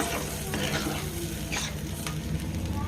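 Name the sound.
stirring fish curry with added water in a pan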